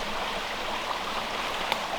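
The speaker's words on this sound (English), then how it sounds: "there's a sharp bend in the brook" A highland brook flows around a sharp bend, giving a steady, even rushing and babbling of water at close range with no voices.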